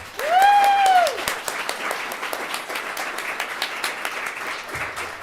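Applause for the finalists at the Alaska Poetry Out Loud 2023 state competition, steady dense clapping from a hall audience with a whistle at the start.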